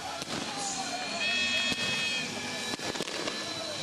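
Fireworks over Poltava, Ukraine, at a football Super Cup final, popping and crackling at a distance, with sharp bursts standing out over a steady outdoor rumble and faint voices.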